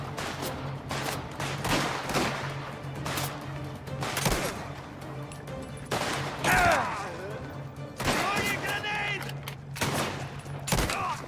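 Repeated gunfire bursts in a mafia-era shooter game, sharp shots and volleys spread unevenly across the stretch, with a low steady hum underneath and some game sounds between the volleys.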